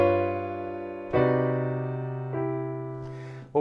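Piano playing a ii-V-I chord progression in C as a voice leading example, three sustained chords struck about a second apart, each ringing and slowly fading, clear and solo.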